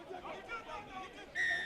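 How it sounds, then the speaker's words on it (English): Referee's whistle blows sharply near the end of a brief stretch at a rugby union semifinal, cutting above a constant murmur of crowd chatter and commentary. "but the referee's whistle had sounded"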